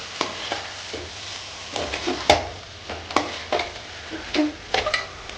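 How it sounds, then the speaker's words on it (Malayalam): Mutton is stirred as it fries in a pan for Kerala-style mutton curry, with intermittent close scrapes and clacks of a spoon over a soft, low sizzle. "മട്ടൺ മട്ടനും കൂടെ ചേർത്ത് ഇളക്കുക"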